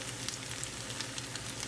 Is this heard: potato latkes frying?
yes